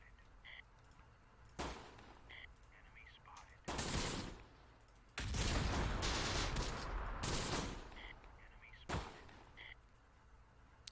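Gunfire in the Close Combat: The Bloody First war game, with several sharp shots and bursts of rattling automatic fire, some dense sustained stretches, loud and near, without talk.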